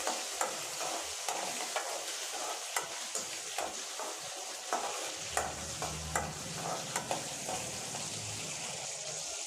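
Garlic and shallots sautéing in oil for a dried fish curry, a steady sizzle with regular scraping strokes of a spoon stirring in the pan.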